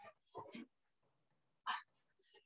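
A pet dog at home barks and yelps in a few short bursts, close and fairly loud, with quiet breathing-like noise between them.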